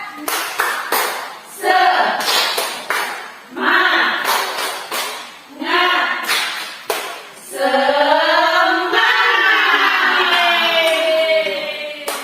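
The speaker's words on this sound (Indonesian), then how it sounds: "Tepuk semangat." Participants at a school activity perform a rhythmic "tepuk semangat" clap, with crisp bursts of group clapping alternating with chanted vocal phrases, ending in a sustained sung or shouted line, loud and nearby.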